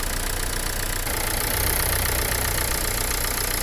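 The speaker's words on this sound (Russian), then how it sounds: "Сейчас будет запуск двигателя, почти холодный" An almost cold car engine idles after starting, a dense steady mechanical rumble with a faint knocking texture, close and constant throughout with no speech.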